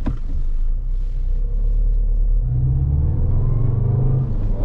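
Skoda Octavia RS with a 2.0 TDI diesel engine running in sport mode, a deep close rumble that swells as the engine revs up inside the car.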